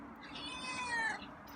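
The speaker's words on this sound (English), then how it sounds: "It's meow, not a hiss." A feral cat meows once, a drawn-out rising and falling cry, fairly close over faint room noise.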